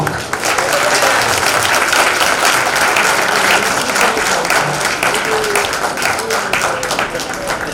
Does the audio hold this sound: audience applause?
yes